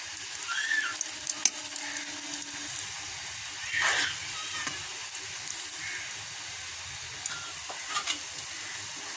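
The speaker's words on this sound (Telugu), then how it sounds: "ఆయిల్ కాగేసింది, పకోడీ వేసుకుందాం" Sweet corn pakoda frying in hot oil: a steady, close sizzle and crackle with occasional louder bubbling bursts, continuous throughout with no talking.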